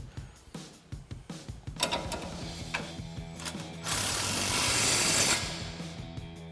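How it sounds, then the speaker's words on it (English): An impact wrench with a 15mm socket tightens the nut on a rear Bilstein B8 5160 shock of a 2015-2024 Ford F-150. Rapid ratcheting hammering comes in close, uneven bursts, then a sustained loud run near the end. "Then we'll go ahead and tighten that back down again with our 15mm socket on our impact and an 18mm wrench."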